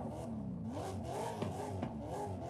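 A 6.2 liter V8 swapped into a Honda CRX Mugen in Forza Horizon 5 drones and revs continuously, a deep throaty engine note with rising and falling pitch, loud and steady throughout.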